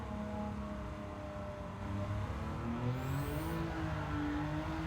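A car engine revs steadily with wheelspin during a night of testing at the Tsukuba circuit. The engine note drones loudly and rises in pitch toward the end, with a faint high tire squeal.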